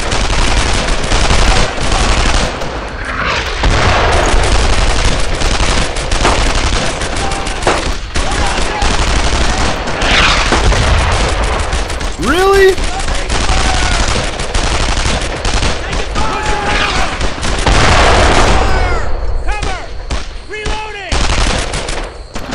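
Constant heavy gunfire fills a World War II battle in the video game Brothers In Arms: Earned in Blood, loud overlapping rifle and machine-gun bursts that barely pause, with shouted voices now and then.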